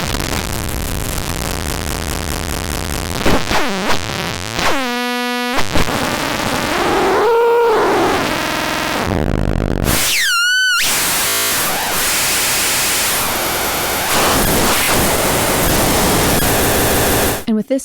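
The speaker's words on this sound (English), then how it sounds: "we're just using the wavefolder to distort the sine wave that's being used to FM this oscillator" Harsh, chaotic synth tone from an oscillator frequency-modulated by a sine wave run through a wavefolder, sweeping and buzzing loudly with abrupt gaps, metallic chirps and shifting noisy textures throughout.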